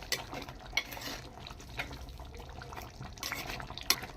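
Beef curry with potatoes being stirred in a clay pot for a Christmas dish, wet sloshing and scraping strokes repeating steadily, close and moderately loud with a few sharper clinks.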